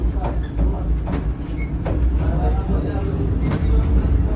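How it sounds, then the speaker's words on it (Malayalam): The Vande Bharat Express pulls into Karwar railway station with a low, continuous rumble of rolling carriages, broken by a few brief high squeals from the wheels. "സമയം 12:15 കർവാർ റെയിൽവേ സ്റ്റേഷനിലേക്ക് ഇതാ വന്ദേ ഭാരത് എത്തിക്കൊണ്ടിരിക്കുകയാണ്."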